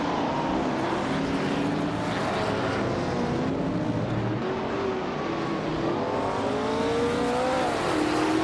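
Engines of race cars in a racing video game roar continuously, with several cars overlapping and revving up and down through corners, loud and steady without talk.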